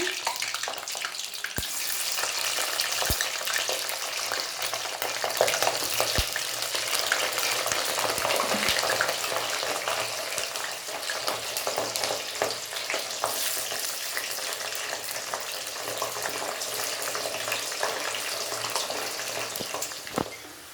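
Homemade crispy potato French fries frying in hot oil over a low flame give off a steady, dense sizzle and hiss that carries on unbroken throughout, with occasional crackles and no talking.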